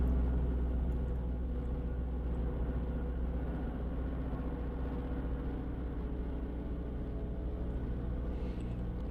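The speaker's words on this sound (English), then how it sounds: "It's a pace car that we're hearing over there." GT3 race pace car driving around a track, a steady low engine rumble heard from some distance and holding at an even level throughout.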